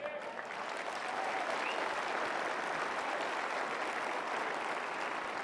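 An audience at a political conference bursts into sustained, dense applause, many hands clapping steadily together at a moderate distance for several seconds.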